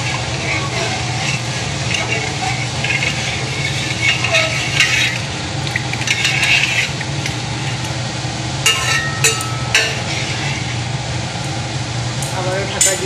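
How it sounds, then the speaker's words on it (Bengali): Gobindobhog rice khichuri gets stirred in a pot with scraping and clinking spoon strokes over a continuous low simmer, while a voice talks intermittently. "এবার নেড়ে দেবো।"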